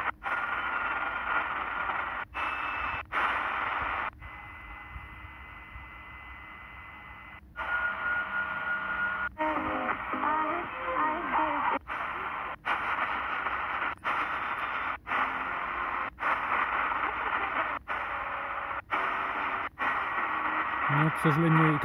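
A Tecsun PL-330 receiver tuned to a medium-wave station in a city hisses and crackles, with faint broadcast speech under static and interference, broken by regular clicks and abrupt shifts in tone.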